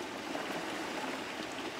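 Water flows quietly at a hidden swimming hole along a ditch, a faint, steady trickling stream murmur with no voices.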